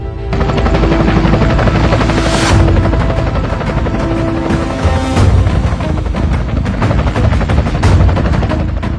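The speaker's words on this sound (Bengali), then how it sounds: "এলাকায় হেলিকপ্টার কে নিয়ে আসলো?" A helicopter over a neighbourhood gives a loud, sustained, rapid thumping rotor chop with roaring engine noise and swelling pulses throughout.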